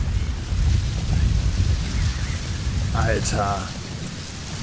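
Heavy rain with rumbling thunder during a storm in the video game Metal Gear Solid V: The Phantom Pain, a loud, dense wash of downpour with low rolling booms, while someone speaks briefly over it.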